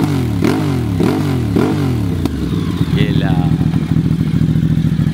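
A Moto Morini X-Cape 1200 V-twin motorcycle with stock exhaust revs up sharply three times in rhythmic bursts, then settles into a loud, rumbling idle with a brief voice over it.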